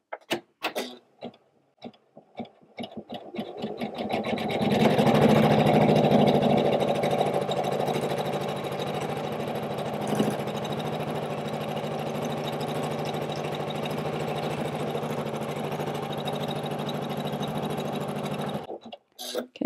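A Janome 500E embroidery machine stitches an in-the-hoop ornament with a steady, fast mechanical whir and needle chatter that runs evenly for about fifteen seconds after a few starting clicks, then stops abruptly.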